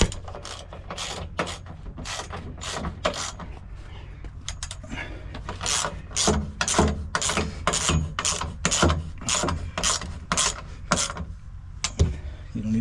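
A ratchet wrench tightens air bag suspension bolts on a Honda Acty, with a long series of quick rhythmic clicking bursts close by, separated by short pauses and no talking.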